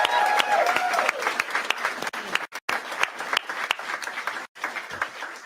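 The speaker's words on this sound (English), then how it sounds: "So let's applaud the team." An indoor crowd at a Kamala Harris campaign headquarters event claps and applauds steadily and loudly for the campaign team, with a few cheers, continuous applause throughout with brief dips.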